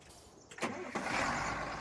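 A tractor engine in Farming Simulator 19 cranks briefly, then catches and settles into a steady, even rumble, heard alone and fairly close.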